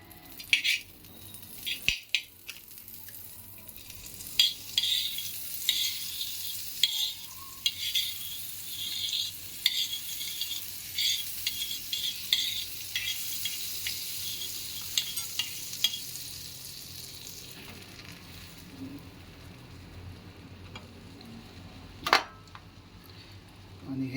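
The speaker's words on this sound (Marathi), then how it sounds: "आपला पॅन गरम झालेला आहे त्यात आता बटर टाकून घेऊया" Butter frying in a hot pan while making cheese garlic bread, a steady sizzle with scattered crackles and occasional stirring or utensil taps, fairly close, with brief talk in places.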